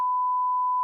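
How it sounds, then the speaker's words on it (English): A single steady censor bleep, a pure electronic tone held for just under a second, loud and alone. "I just beeped it."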